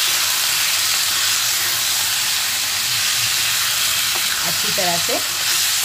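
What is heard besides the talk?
stirring and frying goat kidney and liver in a pan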